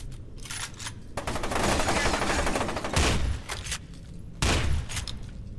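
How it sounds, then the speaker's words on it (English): Pump-action shotgun gunfire in the video game FEAR: loud, close blasts crowd together into a dense barrage, with two sharp heavy shots standing out near the end. "Oh my god, it is a shotgun."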